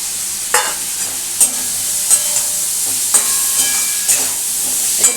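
Fried fish roe fritters are stirred into a sizzling pan for macher dimer dhoka, with a steady hiss of frying and about six sharp spoon scrapes landing at a regular pace.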